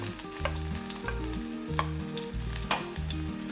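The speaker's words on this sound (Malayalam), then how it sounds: "ഇത് എണ്ണയിൽ ഒന്ന് വഴറ്റണം" Ginger, shallots, green chillies, curry leaves and fenugreek sauté in hot coconut oil, sizzling steadily up close. A spoon scrapes the pan in a slow repeating rhythm, and no one speaks.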